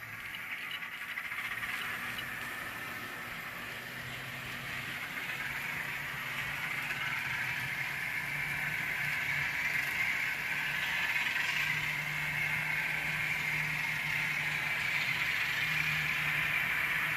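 A BLI Centipede model locomotive runs at full throttle during speed matching, giving off a continuous mechanical whir and gear rattle with a faint hiss that holds steady and builds slightly over the stretch.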